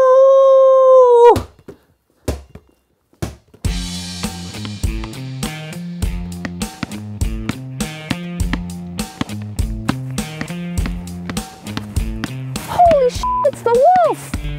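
A wolf-like howl opens alone, a long wavering tone, then gives way to a bouncy cartoonish Halloween music cue with a brief howl-like rising call near the end.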